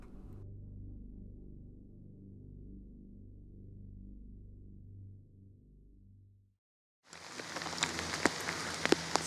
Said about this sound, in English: It's a little rainy out today, but that's okay. Might be a little wet.